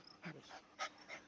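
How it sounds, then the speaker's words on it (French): A small dog pants softly indoors in a few short breathy puffs with a faint whimper, quiet and close, no speech. "il y a mon petit chien qui veut participer à la vidéo"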